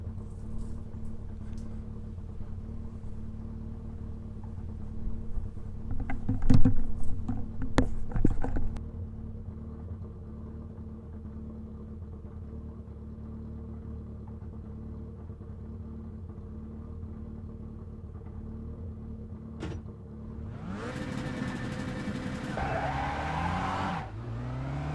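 A Kia Cup race car at the race start at Interlagos. A low engine idles steadily with a few sharp knocks, then near the end it revs loudly and climbs through the gears, with no talking.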